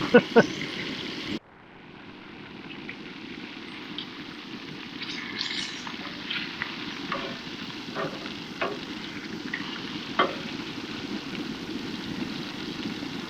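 Chicken strips frying in a pan at a solo van camp, a steady close sizzle that starts after a sharp clatter, with small pops and clicks scattered over it.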